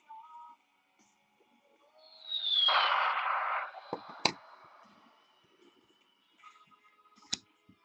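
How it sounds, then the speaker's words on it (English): A bottle rocket firework whooshes up in a rising shriek lasting about a second, followed by sharp pops and crackles, then a few isolated faint snaps against quiet. "that deserves a bottle rocket"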